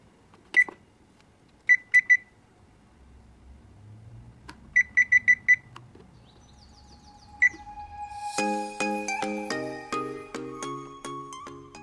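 Short electronic timer beeps at the start of a kitchen and bathroom speed-cleaning session, sounding in several quick clusters of two to four, followed by a louder sustained tonal chime with steady pulsing.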